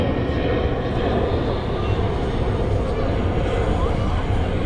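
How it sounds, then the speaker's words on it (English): An Austrian Airlines Embraer jet at Manchester Airport produces a deep, steady engine rumble heavy in the low end, with faint chatter from nearby people under it. "Austrian Embraer."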